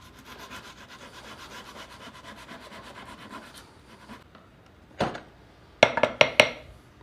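Sandpaper rubs over the rounded wooden head of a handmade carving mallet, a steady close scratching that runs for a few seconds, followed by a few sharp knocks of wood.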